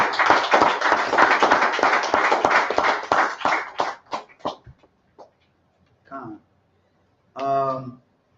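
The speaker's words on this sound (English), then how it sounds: "give y'all a shine hand clap" Group hand clapping in praise during a Bible lesson; a brisk run of sharp, rhythmic claps from several people that thins into scattered single claps and stops, followed by brief voices.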